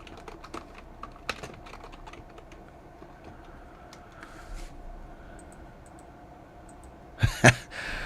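Keys tap in bursts on a computer keyboard, close and fairly quiet, then pause before a louder rustle or sigh near the end.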